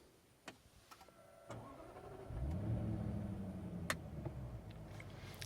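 A Jaguar F-Pace SVR's V8 fires up, a brief starter whir giving way to a loud, steady, deep idle rumble that fills the cabin and holds to the end.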